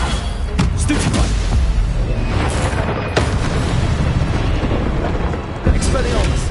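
Confringo spell explosions in Hogwarts Legacy, a run of heavy booming blasts and crackling impacts layered over dense combat noise, loud and near, with a sharp burst standing out near the end.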